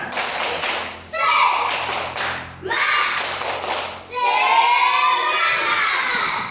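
Fourth-grade pupils repeat a rhythmic spirit clap, three loud bursts of patterned clapping mixed with children's voices, the last burst longest, close and lively in a classroom.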